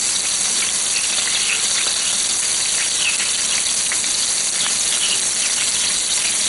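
Salisbury steak patties brown on their second side in a hot pan, giving off a loud, constant sizzle with crackling pops scattered throughout and no talking.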